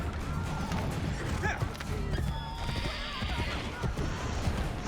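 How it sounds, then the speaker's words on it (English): Horse neighing in the Assassin's Creed Brotherhood video game, a whinny rising over a busy bed of game sound with hoof clip-clops and crowd noise, fairly steady and moderately loud. "Time for us to get busy and jump onto a horse."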